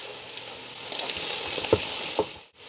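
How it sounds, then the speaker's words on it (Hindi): Fresh ginger and garlic fry in hot oil in a karahi, a steady close sizzle with a couple of sharp stirring scrapes near the end before it briefly cuts out. "और इसको हमने अच्छी तरीके से भून लेना है।"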